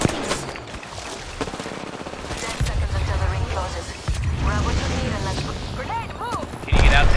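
Gunfire cracks and rattles in an Apex Legends match, with sharp shots and bursts heard under a player's speech and game voice lines, ending with a louder close blast.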